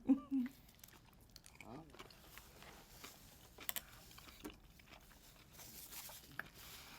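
A big bite of spicy food is taken and chewed close up, a sharp bite at the start followed by soft, wet, irregular chewing and crunching, with faint voices in the background.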